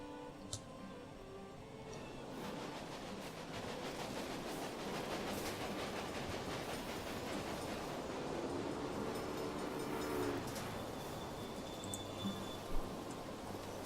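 A train rolls along in the Railway Empire video game, a faint steady rumble with clattering rail noise, soft and continuous with a few small clicks.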